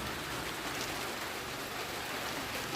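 Steady rain falls outdoors on a trek near Basantapur, a dense, even hiss of drops hitting surfaces close by, unbroken and fairly quiet, with no voices.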